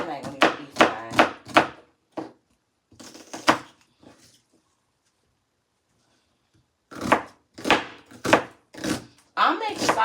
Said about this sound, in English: I'm just chopping this so it ain't going to be fine.